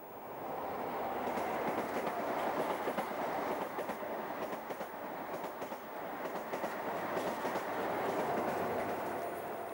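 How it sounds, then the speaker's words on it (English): A high-speed train roars through a station at speed, a loud continuous rush with rhythmic clattering of wheels over the rails, building and holding throughout. "A high-speed train in the livery of Virgin Trains speeds through, heading for Taunton in the west."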